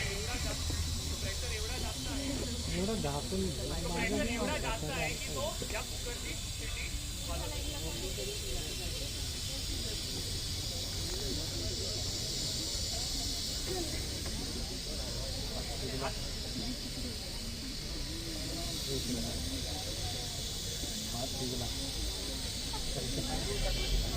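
Liquid nitrogen boiling off into gas inside a pressure cooker, giving a steady, broadband hiss that runs the whole time with a faint voice underneath.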